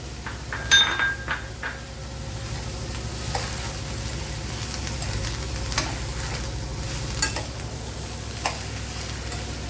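Thinly chopped medium tomato fries in a pan with a carrot dish, giving a continuous soft sizzle. Several clinks and scrapes from stirring come early, followed by sparser taps against the pan.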